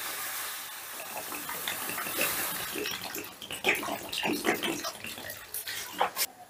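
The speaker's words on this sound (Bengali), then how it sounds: "এবারে দিয়ে দিচ্ছি পরিমাণ মতো জল।" Water being poured into a pan of washed elephant foot yam and potato on a gas stove, a steady splashing gush with scattered drips and clinks, fairly close.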